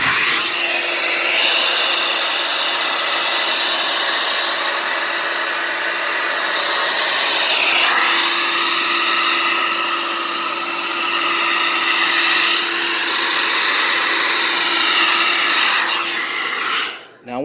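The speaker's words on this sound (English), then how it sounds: "everywhere I see a vent, I'm going to blow air into it while the TV's unplugged" Compressed air is blown steadily into the vents of an unplugged Pioneer Fire TV, a loud continuous rushing hiss lasting the whole time with only slight shifts in pressure, fading at the very end.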